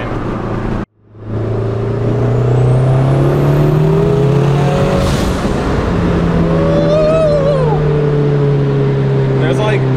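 A 500 hp Honda Civic accelerating hard on the street, its engine drone climbing and holding loud and close from the cabin for nearly the whole stretch after a brief cut near the start.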